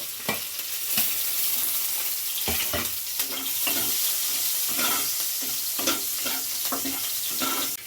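Paneer pieces, chopped ginger and green chilli fry in hot oil with a bright continuous sizzle, punctuated by frequent clicks and scrapes of stirring, close and without speech.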